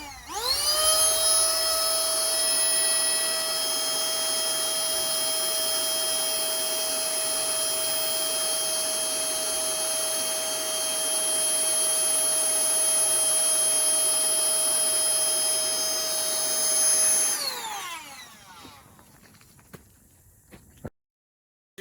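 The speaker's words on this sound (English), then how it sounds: "this is our standard blue blower that we have that we'll use to ventilate tanks" A standard blue tank-ventilation blower hooked to a manometer runs with a loud, steady, high-pitched whine and whir for about seventeen seconds, then winds down as the motor stops.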